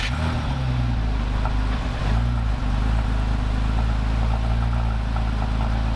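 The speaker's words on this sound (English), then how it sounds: "let's cut now to the sound of the standard exhaust." A Porsche 987 Cayman with its standard exhaust idles with a low, steady exhaust rumble, fairly quiet and even in tone, with no voices.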